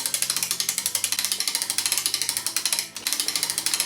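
An Urgos mantle clock mainspring being wound with a ratchet, giving a fast, steady stream of close, loud clicking with a brief pause before the winding resumes.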